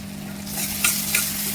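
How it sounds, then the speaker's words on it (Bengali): Chicken kosha masala with tomato and salt is stirred in a frying pan, a soft steady sizzle under two brief scraping strokes of the spoon, close and moderately loud with no talking. "নুনটা দেওয়ার পর ভালো করে নাড়াচাড়া করে নেব।"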